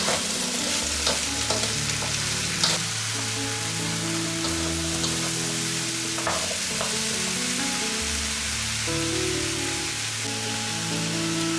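Chopped vegetables and mushrooms being stir-fried together in a salted pot over high heat for curry rice, a loud, dense, continuous sizzle with a few clinks of the spoon and faint tonal kitchen sounds underneath.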